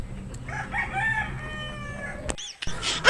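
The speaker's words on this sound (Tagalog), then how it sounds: "merong manok tumitingog" A rooster crows once, a drawn-out call over a low background hum, followed by a few sharp knocks and rustles.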